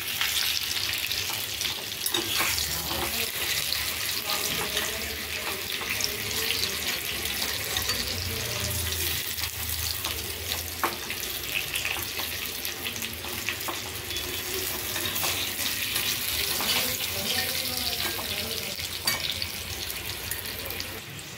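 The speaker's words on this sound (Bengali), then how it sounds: "এদিকে আলুটা আমার লাল লাল হচ্ছে, এটাও একটু সুন্দর করে লাল লাল করে ভেজে নেবো" Potato pieces fry steadily in a pan for a chicken kosha, a dense, continuous sizzle that holds at even loudness throughout, with a few faint scrapes and clinks over it and no talking.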